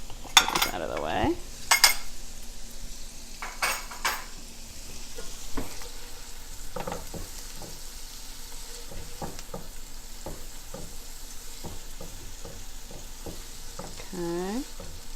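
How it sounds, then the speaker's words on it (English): Haddock and fried rice ingredients sizzle steadily in a frying pan, with occasional utensil clinks and scrapes against the pan throughout. "So sizzling away here."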